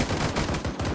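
Rapid automatic gunfire in ArmA 3 during a large US paradrop assault, a continuous rattling burst of closely spaced loud shots with a brief gap near the end.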